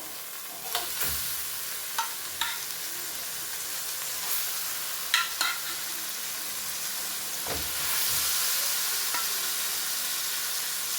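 Snapper fish frying in tomato sauce in a pan, giving a steady close hissing sizzle that swells toward the end, broken by several sharp taps and scrapes of a cooking utensil, with no talking.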